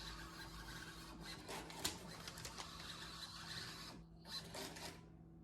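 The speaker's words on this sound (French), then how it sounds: "Je vais imprimer mon reçu qui va sortir juste ici." A Clover Station Duo receipt printer prints a receipt with soft, rapid mechanical whirring and clicking, fairly faint and close. It pauses briefly, then resumes before stopping.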